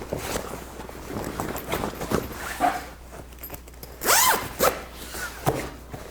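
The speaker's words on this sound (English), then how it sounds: "and now we can zip it together" A zipper drawn closed on a fabric Bimini top boot, heard as a few short scratchy bursts close by, with soft handling and rustling of the material between them.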